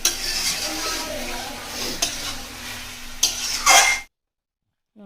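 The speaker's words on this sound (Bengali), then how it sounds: "আমি করছি বাচ্চাদের জন্য মাংস আর ঝালা, মানে একটু কাঁচা লঙ্কা দিয়ে, অল্প করে 3টে কাঁচা লঙ্কা দিয়ে রান্না করছি মাংসটা" Meat cooking with three green chilies in a pan, spatula stirring and scraping against the metal amid a steady sizzle, with a few clinks before it cuts off.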